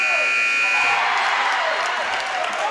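A basketball game buzzer blares loud and sustained at a girls varsity high school game, ringing for about a second before fading into crowd noise and an announcer talking.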